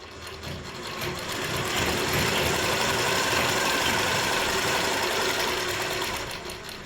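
A sewing machine stitches a fall onto a saree with a fast, steady, close mechanical whirring and rapid needle clatter that runs without a break.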